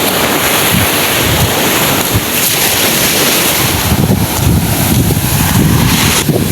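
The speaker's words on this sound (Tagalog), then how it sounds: "Malalaki pa po yung alon kaya hindi kami makalaot." Big ocean waves roll in at low tide beside a long pier, a steady broad roar of surf with gusts of wind buffeting the microphone throughout, no voices.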